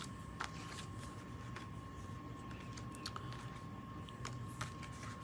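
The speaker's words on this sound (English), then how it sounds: "I shuffled the deck." A Golden Art Nouveau tarot deck being shuffled by hand, a quiet, close run of papery riffles and soft card slaps with scattered sharper flicks over a faint steady hum.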